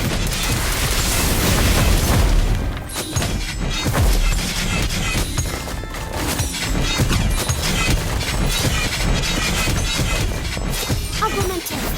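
A Confringo blasting spell goes off in Harry Potter: Magic Awakened as a loud, booming explosion with crashing, shattering debris, followed by sustained rumbling clatter and scattered sharp cracks, dense and close throughout.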